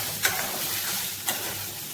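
Steady frying hiss of onion browning in a pan fills the clip, with two brief clinks or scrapes from stirring, close by and moderately loud.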